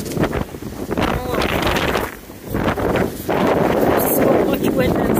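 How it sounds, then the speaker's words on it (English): Blizzard wind gusting hard in Bar Harbor, Maine, loud roaring buffeting against the microphone with brief lulls between strong gusts. "So much wind and snow."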